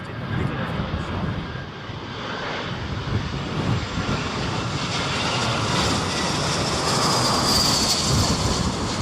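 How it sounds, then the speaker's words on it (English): A fixed-wing airliner's engines roar steadily and loud as it comes in to land at Heathrow Airport during Storm Henk's high winds, the jet noise building over the approach with gusty wind rush behind it. "Attempt to get the aircraft in the middle of the shot."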